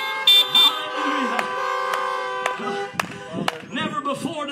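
Car horns honking during a Sunday morning drive-in church service, sustained tones with a couple of short toots up front, layered under a preacher's amplified voice and crowd noise.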